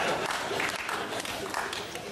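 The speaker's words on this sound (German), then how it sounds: "Ruhe, dieser Applaus irritiert mich." A studio audience on a late-night German talk show breaks into sustained, dense applause, a steady wash of clapping filling the room.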